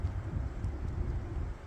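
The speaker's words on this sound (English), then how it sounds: "Yeah, still windy, but the winds have actually calmed down a little bit." Steady, low wind rumble buffets the microphone throughout, loud and continuous, during a lake effect snowstorm in November.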